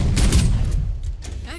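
Bursts of gunfire in the shooter game Valorant, a quick cluster of loud shots over the first second followed by a couple of sharper cracks, with faint game sounds between.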